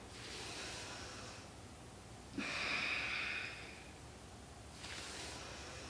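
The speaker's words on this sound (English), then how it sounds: "Exhale, pull in." Long audible exhalations during a yoga stretch for dancers, three soft breaths through the nose and mouth in a quiet room, the middle one stronger and breathier than the others.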